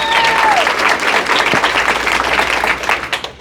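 A comedy club audience at the Loony Bin in Tulsa breaks into loud, close applause that continues steadily with scattered individual claps, briefly overlapped at the start by a faint tone.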